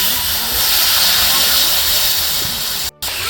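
Water poured onto hot spices and ginger in a pan erupts into a loud, steady hissing sizzle that holds for about three seconds before a sudden brief cut.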